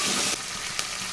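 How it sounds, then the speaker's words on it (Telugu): Ginger garlic paste frying in hot oil for a country chicken curry, a close, even crackling sizzle that stays steady for a moment, with one brief louder crackle. "ఈ అల్లం వెల్లుల్లి పేస్ట్ కూడా మనకి ఇలా ఆయిల్లోనే ఫ్రై చేసుకోవాలి."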